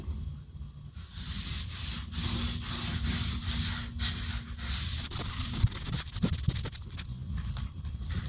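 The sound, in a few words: rubbing boiled linseed oil finish into guitar wood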